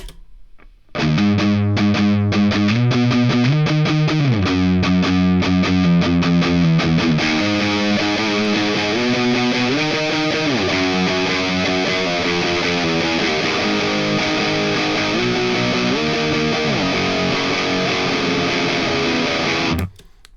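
An electric guitar played through an amp simulator gives a heavily distorted, compressed tone, with a run of chugging palm-muted riffs that gives way to sustained chords and melodic lines, loud and steady throughout.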